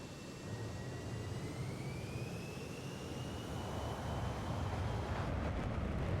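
A Su-27 Flanker's jet engine roaring on afterburner in a flight simulator while held on the brakes, a loud constant broadband rumble and hiss with a slowly rising whine.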